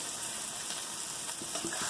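Gluten-free spaetzle fries in a frying pan with mushrooms and onions, giving a steady close hiss and crackle of sizzling, with a few brief louder spits near the end and no voices.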